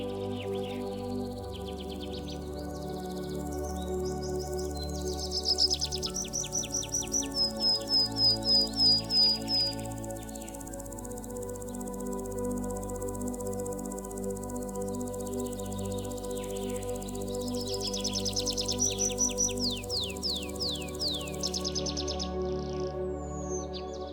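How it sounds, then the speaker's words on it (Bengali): Birds calling in the Sundarbans mangrove forest, bursts of rapid repeated chirps and trills over a low steady drone, with quieter scattered calls between. "শুধু পাখির ডাক শোনা যাচ্ছে"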